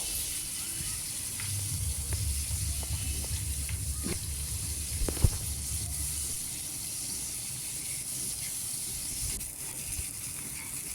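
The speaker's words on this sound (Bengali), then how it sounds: "এটাকে আমি লাল লাল করে ভেজে নেব" Tomatoes and garlic cook in a pan until reddish, a steady close sizzle of hot oil running throughout, with a few scraping stirs of a spoon and one sharp knock near the middle.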